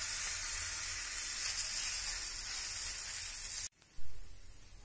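Buckwheat cheela sizzling in ghee on a pan, a steady bright frying hiss that cuts off briefly near the end and then resumes, with no talking.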